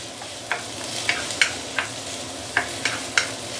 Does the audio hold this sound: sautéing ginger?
yes